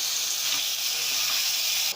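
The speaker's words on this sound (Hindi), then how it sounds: "और अब मैं इसमें डाल रही हूँ कीमा" Minced meat hits hot oil with fried garlic and ginger in a pan over a medium-high flame, giving a loud, steady sizzle that runs unbroken for two seconds and stops abruptly at the end, with no talking.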